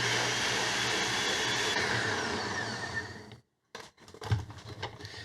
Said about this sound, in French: Prochaine étape, on va mettre ça dans un mélangeur.